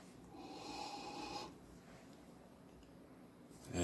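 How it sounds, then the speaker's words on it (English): A single soft exhaled breath blown onto a small stick under a microscope, a faint airy rush lasting about a second, close and quiet, with no talk. "let me breathe on it once"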